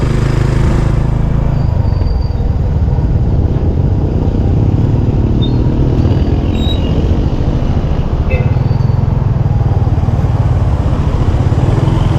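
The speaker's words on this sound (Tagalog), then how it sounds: "Ang laki ng motor dyan oh." A loud, steady rumble of a big motorcycle engine, close by and continuous, with road traffic noise blending in.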